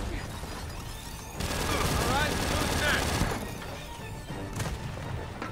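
Gunfire and a turret in the video game Gears of War 4, a dense burst of crashing shots swelling in the middle and fading, with another short crack near the end, moderately loud.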